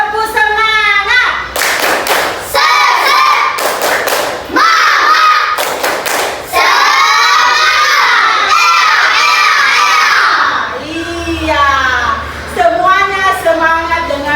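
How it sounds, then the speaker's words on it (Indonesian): A group of schoolchildren loudly performs a 'tepuk semangat' cheer, shouting rhythmic chant lines broken by sharp bursts of unison clapping and thumps, with crowd cheering throughout. "Dalam hitungan 1 sampai 3 kita tepuk semangat bersama-sama ya"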